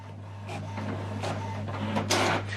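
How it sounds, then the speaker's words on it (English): An HP OfficeJet 8022e printer prints double-sided, its steady motor hum running under shuffling paper feed and mechanical whirs, then a sharper burst of rolling movement near the end, heard close up. "It's printing on the other side."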